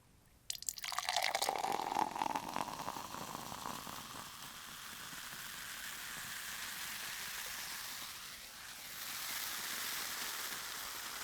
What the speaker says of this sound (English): Listen to that fizz, fizz, fizz, fizz.